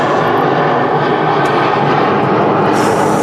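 Airliner jet engines spool up for takeoff at Manchester Airport, a loud, steady, broadband roar that holds without a break.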